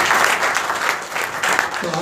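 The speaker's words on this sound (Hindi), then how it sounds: "ताली बजाइए मेरे लिए।" Audience applause at a spiritual talk fills the whole moment, a steady, dense wash of clapping from a crowd at close-to-medium range.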